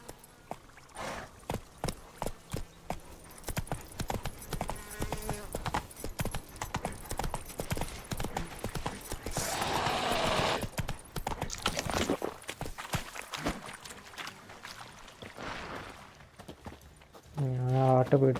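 Horse hooves clip-clop steadily in the Witcher 3: Wild Hunt video game, a walking rhythm that quickens to a run, with someone talking and urging the horse on between the hoofbeats.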